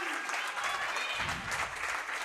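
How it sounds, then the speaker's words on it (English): Crowd applause at the 2017 Pan Am Racquetball Championships women's singles semifinal after a shot, sustained steady clapping from the arena audience, with a commentator's voice over it. "There's the crowd appreciating that from Martinez for the side out."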